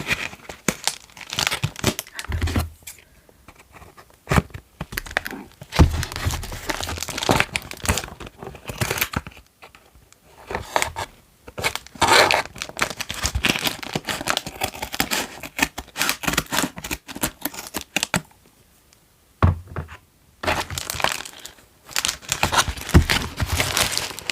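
Fancy makeup packaging crinkles and tears as it is opened, with close, crisp rustling bursts and scissor-like snips coming and going in uneven clusters over quiet pauses.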